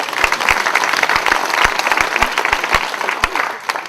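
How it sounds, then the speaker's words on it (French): An audience at a talk by Guy Gilbert in Muraz Collombey bursts into dense, sustained applause, many hands clapping together with a few louder individual claps standing out, close and loud. "Applaudissez cette question qui est bonne."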